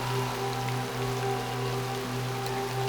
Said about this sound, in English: gently falling but persistent rain